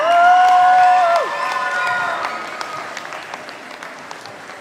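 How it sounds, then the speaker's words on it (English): Audience at a Hmong New Year dance competition in Fresno applauding, the clapping starting fuller under a sustained tonal sound and thinning to scattered claps as it fades. "Please give them one more big round of applause to show them your love."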